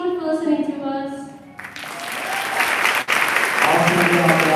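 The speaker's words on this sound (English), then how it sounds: "Give another round of applause." Audience applause at a freshman orientation event, steady clapping that swells and fills the room after a brief stretch of voices, continuing loud to the end.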